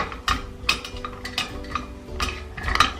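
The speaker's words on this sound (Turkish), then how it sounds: "Ve karıştırarak çikolatamı eritiyorum." A utensil stirs chocolate melting in a pot, making repeated close scraping clinks against the metal at an uneven steady rhythm, with no talking.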